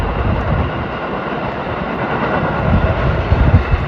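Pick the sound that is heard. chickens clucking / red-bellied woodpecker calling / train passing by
train passing by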